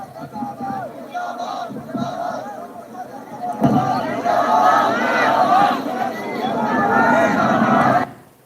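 A large outdoor political rally crowd shouting and cheering in chorus, rising into a loud sustained roar of many voices that cuts off abruptly near the end.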